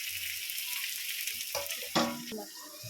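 Pointed gourd (potol) fries in oil, a close, steady hiss with a couple of brief louder splutters or stirs near the end.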